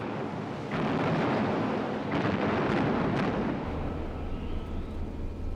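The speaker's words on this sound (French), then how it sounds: "Les obus de gros calibre pleuvent sur le pont du navire allemand." Heavy-calibre naval shells burst on the deck of a German battleship, making a loud, continuous roar of overlapping blasts and rumbling detonations that fill the whole stretch without letting up.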